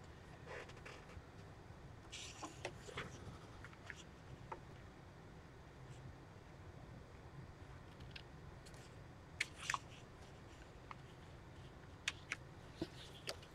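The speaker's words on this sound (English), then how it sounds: "That I can cut with my scissors, I think." Scissors snipping through paper or thin metal sheet while trimming a watercolor and patina craft piece, a few quiet, sharp clicks and snips scattered over a faint, steady background hiss.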